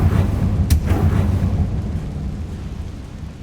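A fiery Confringo spell blast in the video game Hogwarts Legacy: a deep rumbling boom with a sharp crack near the start, then a rolling low roar that fades.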